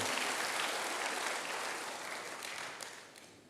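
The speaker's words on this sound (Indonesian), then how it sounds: "Berikan tepuk tangan bagi Tuhan, haleluya." A church congregation claps in a soft, dense wash of applause from across the room, steady at first and fading gradually toward the end.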